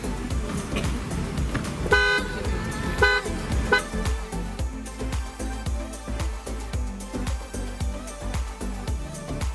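Horn of a BMW X6 sounding in short toots, a couple of louder bursts early on, over steady low engine or road rumble with no talk.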